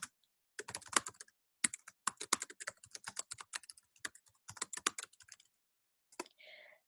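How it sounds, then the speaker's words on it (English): Quick typing on a computer keyboard, bursts of rapid close key clicks with short pauses between them, ending in a brief soft rustle, no talk. "bear with me while I just type quickly"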